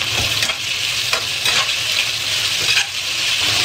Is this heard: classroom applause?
no